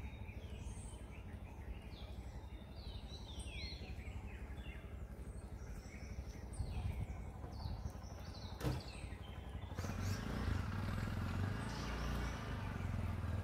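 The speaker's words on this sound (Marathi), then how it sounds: "आणि खूप साऱ्या पक्ष्यांचा आवाज येतोय पाठीमागे" Many birds chirp and call in a coastal garden at Guhagar in the early morning, a busy layer of high scattered calls over steady low background noise, swelling louder near the end.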